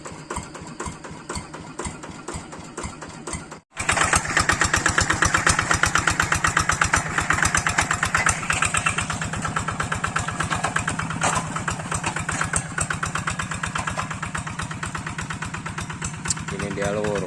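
A new hand tractor (plow) engine cranks, cuts out briefly, then starts and runs with a rapid steady single-cylinder putter, loud and close, as people talk nearby.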